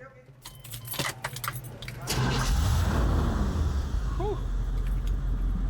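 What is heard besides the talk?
classic car engine starting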